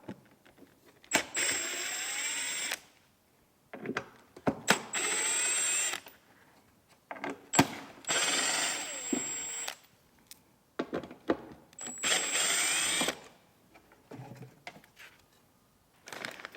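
A power drill backs out T25 screws holding the subwoofer in a Tesla Model 3, with several separate whirring runs of a few seconds each and quiet pauses between them.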